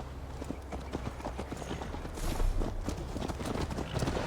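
Horses ridden in Assassin's Creed Valhalla clip-clop steadily at close range, hooves thudding in a quick walking rhythm that grows a little louder partway through.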